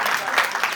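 A dense, continuous wash of audience applause at a school annual day ceremony, a short burst of many hands clapping together with no talk.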